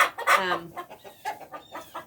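Backyard chickens cluck nearby in a quick series of short, loud clucks with no one talking.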